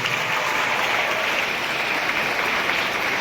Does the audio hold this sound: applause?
yes